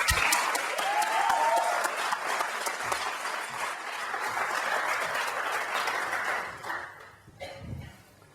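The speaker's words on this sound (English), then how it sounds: "please join me in a cheer to welcome the most decorated Olympic athlete of all time, the extraordinary Michael Phelps." An audience applauds to welcome Olympic swimmer Michael Phelps to an interview stage, a dense wash of clapping that swells early, holds steady, then thins and fades out toward the end.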